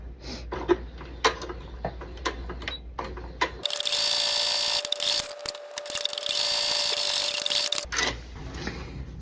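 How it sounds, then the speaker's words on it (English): Sewing machine stitching quilt block pieces: a steady mechanical whir runs for about four seconds in the middle, set between quieter handling clicks and fabric rustles. "I'm going to flip it around, and I'm going to sew the other side."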